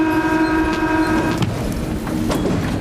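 Metro train carriage in motion, with a sustained tonal horn or whistle-like hum that fades out, followed by rumbling wheels and rattling clicks, loud and close.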